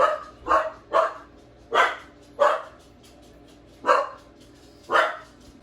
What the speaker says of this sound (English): Sorry, don't mind my dog.